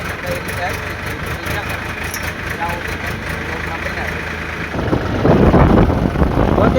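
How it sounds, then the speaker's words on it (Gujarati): A Powertrac tractor engine runs steadily at idle, a constant low mechanical drone that grows louder and rougher in the last couple of seconds, with someone talking over it throughout. "તો આપણે આ રીતનું આ ટ્રેક્ટર છે, પાવર ટેક"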